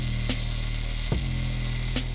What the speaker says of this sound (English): using this spark coil to skim a little electricity over all the joints